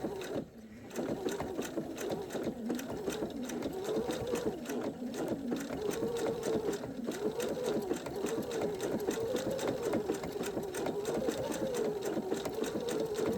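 A sewing machine stitches steadily through a fusible appliqué on a quilt, its rapid, even needle rhythm running continuously and close for the whole stretch, apart from a brief dip near the start.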